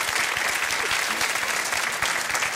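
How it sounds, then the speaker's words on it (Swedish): Large television studio audience applauding loudly and steadily on a Swedish live bingo lottery show, a dense wash of clapping that holds at full level throughout without pause. "Carl-Einar Häckner, vi ger dem en riktigt stor applåd."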